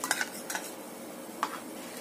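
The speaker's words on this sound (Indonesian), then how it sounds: "Sambil kita terus aduk ya." A spoon scrapes and clinks against a pot while sago pearl pudding is stirred after cornstarch slurry has been added, with a few soft irregular taps over a quiet hiss and no voices.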